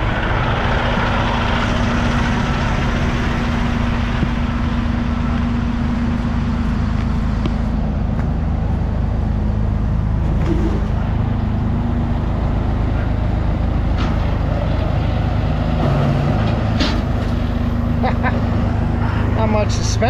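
A heavy John Deere tractor engine drones steadily for the whole stretch, rumbling and clattering as the tractor rolls along, with a voice speaking over it at times.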